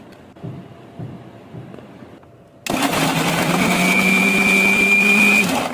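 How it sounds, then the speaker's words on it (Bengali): An electric blender switches on abruptly after quiet handling sounds and whirs loudly and steadily as it blends chopped lemons for pickle, with the motor whine holding through to the end. "এখন আমি এটা ব্লেন্ডারে ব্লেন্ড করে নিব।"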